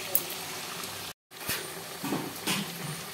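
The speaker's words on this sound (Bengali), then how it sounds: "এখানে ফ্রাই হচ্ছে।" Chicken fries in a pan for chilli chicken, giving a close, steady crackling hiss with a brief dropout and some faint background voice.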